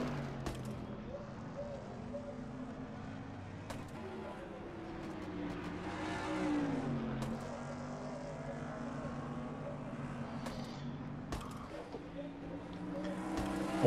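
Race trucks in an NNSCRA Truck Series event at Flemington, likely sim racing: steady, moderately quiet engine drone with rising and falling pitch sweeps and occasional sharp clicks, running continuously throughout.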